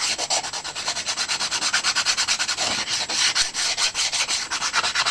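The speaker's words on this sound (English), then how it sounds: "you just sand round it just to get a nice curve on it and sand it to shape" Sandpaper rubs rhythmically against the wooden edge of a model Sopwith Pup rudder, shaping a curve in quick, even back-and-forth strokes, close and steady with no voices.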